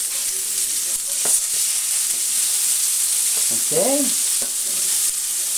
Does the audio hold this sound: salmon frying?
yes